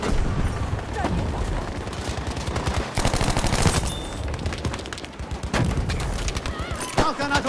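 Dense gunfire in Battlefield 5 Breakthrough mode, with rapid automatic bursts and single shots crackling nonstop and loud over a rumbling battlefield, punctuated by heavier booms.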